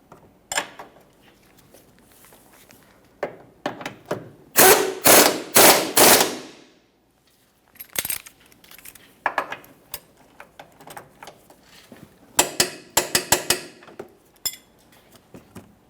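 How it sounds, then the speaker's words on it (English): A ratchet and torque wrench tighten a 19mm control arm bolt and nut on a 2010-2013 Kia Forte Koup, heard as close bursts of rapid metallic clicking separated by pauses and occasional clanks. "For this 19mm headed mounting bolt and nut, we're going to snug it and then torque it to"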